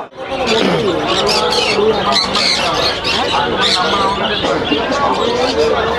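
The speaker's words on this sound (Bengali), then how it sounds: "এখানে হচ্ছে কপালদার পায়রা" Pigeons flutter and call at a pigeon market in Beldanga, Krishnagar, amid busy market chatter, with several people talking nearby over a constant crowded din.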